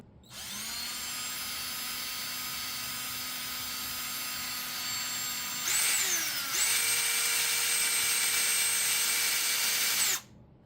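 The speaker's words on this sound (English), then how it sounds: "On my drill, I chose the screw setting first to get the pilot hole started" Power drill boring a pilot hole into a concrete floor in screw mode, a steady high whine running for about ten seconds with a brief pitch dip and rise midway, then stopping abruptly.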